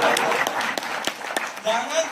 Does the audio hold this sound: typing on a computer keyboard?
no